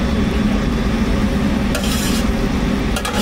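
White onions hit a hot pan of butter, giving a loud, dense, continuous sizzle with a few bright scraping clinks of a utensil toward the end.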